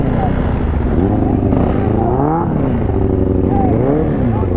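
Dirt bike engines revving and racing in a neighborhood street race, a loud continuous engine drone with rising and falling pitch sweeps, close by, with voices talking over it.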